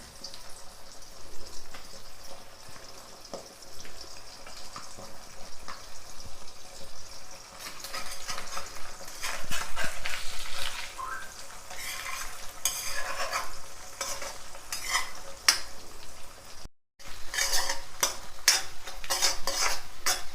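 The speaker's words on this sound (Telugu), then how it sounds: "ఇగో ఇలా తిప్పుకోవాలి. ఎక్కువసేపు వేగనియద్దు." An egg seasoned with salt and pepper sizzles and spits steadily in a hot pan while a utensil repeatedly stirs and scrapes it, with clinks throughout and no talking.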